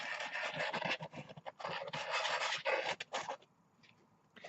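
Repeated rasping scrapes along the edges of a magnetised wargaming movement tray, a series of rough strokes in quick bursts, close up, then a quieter pause before a final scrape.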